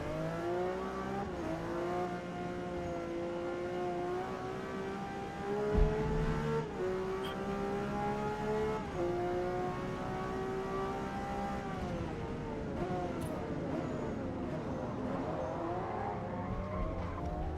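A race car engine drones continuously at high revs, its pitch shifting up and down with gear changes, steady and fairly close throughout.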